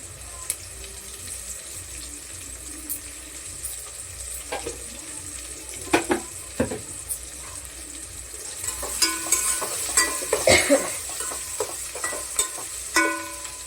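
Onion and curry leaves fry in hot oil with a steady hiss, broken by sharper crackles, spatters and utensil knocks that grow busier toward the end.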